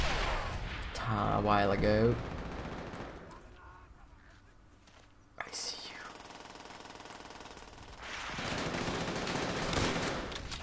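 A single sharp crack of bolt-action sniper rifle fire in Call of Duty: World at War, set among game music and noise, with a player speaking briefly.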